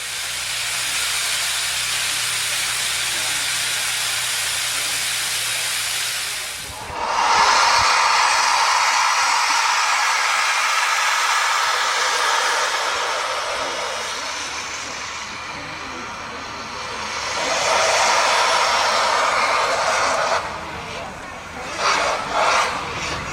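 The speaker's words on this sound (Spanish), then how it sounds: "empujada por su locomotora de vapor número 17, construida en 1925 por la Sociedad de Locomotoras y Máquinas de Winterthur" Steam locomotive no. 17 of the Rigi rack railway, built in 1925 by Winterthur, gives off loud, sustained steam hissing and roaring that surges, eases off and swells again, with a few sharp bursts near the end.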